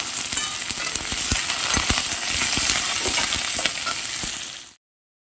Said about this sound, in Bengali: আবার সর্ষের তেল দিয়েছি, এখানে 2টো গোটা শুকনো লঙ্কা ফোড়ন দিয়েছি